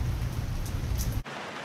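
Pouring rain drums steadily around an open Ford Model T on a drive, a dense, loud hiss that cuts off abruptly near the end.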